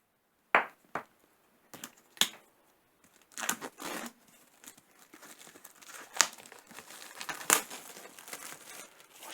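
A parcel holding a Vevor thermal camera is opened by hand. Its packaging crinkles and tears in sharp, irregular bursts, some loud and close, separated by quieter rustling. No one speaks.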